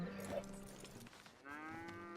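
A cow moos in Red Dead Redemption 2 online, two drawn-out lowing calls at moderate distance with no talk over them.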